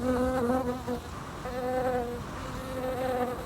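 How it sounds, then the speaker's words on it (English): Bumblebees pollinating flowers in a glasshouse buzz continuously close by, a droning hum that wavers in pitch as they move, with no voices. "we buy in bumblebees, and the bees go along and actually pollinate the flowers"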